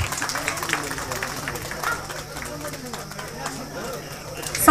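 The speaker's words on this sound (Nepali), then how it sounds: "हजुरहरूले अलिक जोरदार ताली बजाइदिने अनुरोध गर्दछु।" An audience applauds at a school's 50th-anniversary jubilee celebration: steady, dense clapping from many hands, moderately loud and continuous, with crowd murmur mixed in.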